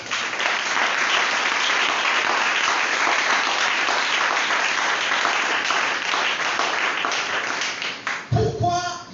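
A church congregation bursts into sustained, loud applause and cheering that fills the whole stretch, ending abruptly with a brief voice at the close.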